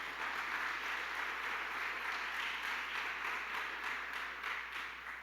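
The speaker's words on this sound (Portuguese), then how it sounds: "aplauda bem forte o nome de Jesus" Church congregation applauding for Jesus during a sermon, a steady wash of many hands clapping at moderate distance, fairly faint and even throughout before tapering slightly at the end.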